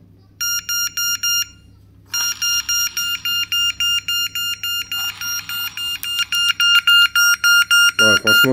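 A loud electronic alarm siren from an AliExpress alarm control panel pulses in rapid, regular bursts, pausing briefly before resuming and growing more insistent, with a low hum underneath.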